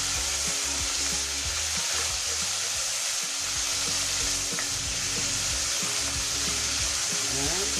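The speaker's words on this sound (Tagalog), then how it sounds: "Hayaan po natin maprito at maluto ang ating gulay." Potatoes, carrots, red and green bell pepper and a little celery frying in a pan, a dense continuous sizzle with intermittent stirring scrapes and clicks, close and loud.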